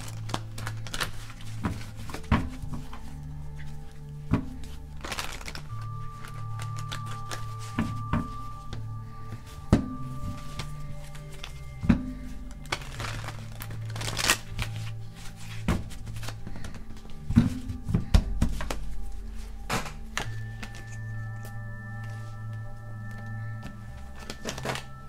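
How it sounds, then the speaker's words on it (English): A deck of tarot cards being shuffled and handled in a quiet indoor space, with soft riffling, shuffling and sharp taps and thumps of cards against a surface arriving in irregular bursts, close and moderately quiet. "let's go ahead and get a good shuffle in"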